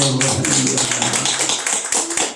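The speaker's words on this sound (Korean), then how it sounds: "우리 박수 힘차게 박수 쳐주세요" A church congregation claps vigorously for a flower bouquet presentation at a Thanksgiving Sunday service, with dense rapid hand claps close and loud throughout and faint voices underneath.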